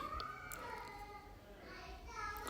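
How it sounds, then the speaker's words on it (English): A young child wails and fusses in the background, a thin high-pitched cry rising and falling for a few seconds under a quiet room. "we have a loud child crying"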